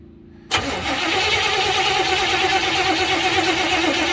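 A 1956 Chevy 210 engine fires up after a brief starter crank, then settles into a loud, steady, close-up running roar with constant broadband rumble and no voices.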